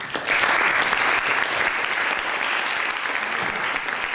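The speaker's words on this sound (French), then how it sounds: "Je pense qu'on peut encore l'applaudir une fois pour ça" Audience applause after a talk at a Ruby programming meetup: a full, steady burst of clapping from a crowd that starts abruptly and holds at an even level for about four seconds.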